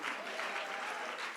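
A church congregation applauds in praise during a pastor's sermon, a soft, continuous patter of many hands held at an even, fairly quiet level for a moment.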